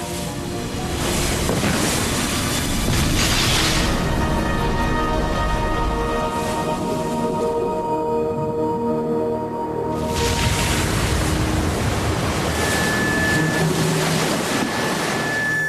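Ocean waves surge and wind roars at sea, a continuous heavy wash of surf and gusting wind noise with a brief lull partway through before the roar returns.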